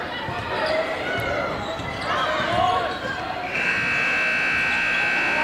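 A basketball game buzzer sounds at the end of the first quarter, a sustained electronic tone that holds steady to the end of the clip after a stretch of gym crowd noise and squeaks.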